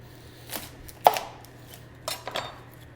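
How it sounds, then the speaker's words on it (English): A knife slices a whole onion in half on a cutting board, with a few sharp, quiet chops and a clear thunk against the board, no talking. "we're gonna have a whole onion. Cut it right down the middle."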